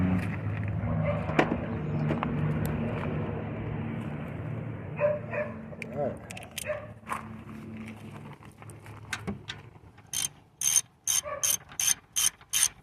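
A ratchet with a 13 mm socket works the alternator bolts on a 1989 Oldsmobile 98, its rapid clicking heard up close in several bursts, with sharper, quicker ratcheting strokes toward the end.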